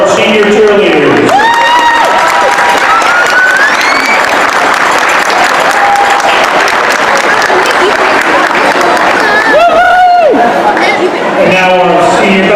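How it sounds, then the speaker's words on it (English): Senior-night basketball crowd in a school gym applauding and cheering for senior cheerleaders, sustained loud clapping with scattered shouts and whistles-like cries throughout, voices calling out above the din. "So a round of applause for our senior cheerleaders."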